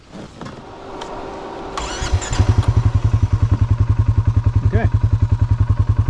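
A 2023 Polaris Sportsman 570 ATV engine catches and settles into a steady, loud, rapid pulsing as it rolls off-road in two-wheel drive, close to the rider, with a brief spoken word near the start.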